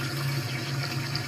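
Recorded running water played back from a device, a steady, even rushing flow with a low hum beneath it, continuous and close for a brief moment.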